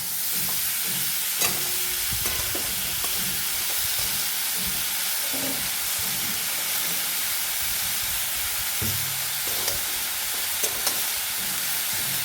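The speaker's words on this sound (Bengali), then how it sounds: "আর এবার দেবো একটু হলুদ আলু আর ফুলকপি যতটা ভাজার দরকার পড়ে" Potato and cauliflower fry in ghee for khichuri, giving a continuous close sizzle and steamy hiss broken by occasional utensil knocks and stirring scrapes, with no talking.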